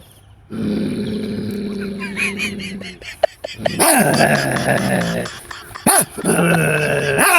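A voice imitates two dogs fighting, starting with a long low growl, then breaking into snarls, yelps and barks in uneven bursts, loud and close.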